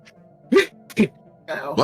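A sharp, sudden sneeze bursts out at close range, broken into a couple of loud explosive bursts with speech-like sounds between them, against a low steady hum.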